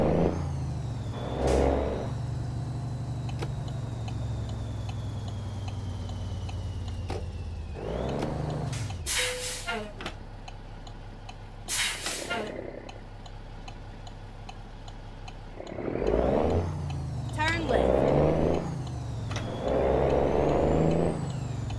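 Cummins N14 engine in a Peterbilt truck in American Truck Simulator, a steady low diesel drone with bright hissing bursts of air brakes releasing midway, then the engine pulling again with rising revs.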